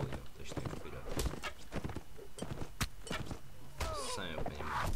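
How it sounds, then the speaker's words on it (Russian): Horse hooves galloping in the video game Mount & Blade: Warband, a rapid run of clip-clop beats over a continuous game backdrop, with a whinny near the end. "Лошадь можно разгонять, если быстро нажимать на клавишу W"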